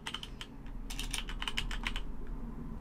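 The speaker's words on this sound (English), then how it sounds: "to launch it, we can type the name of the application" Keys clack on a computer keyboard as an application name is typed in Windows 10, a quick run of close, crisp taps that speeds into a dense burst, then trails off.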